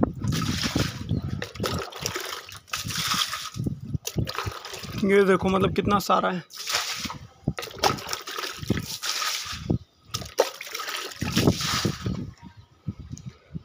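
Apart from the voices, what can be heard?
water poured from bucket, trickling and splashing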